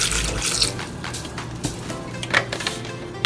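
Sweet apple cider is poured into a smoothie in a steady, splashy stream of liquid that runs for a few seconds, close and moderately loud, with small bursts of splashing and no voices.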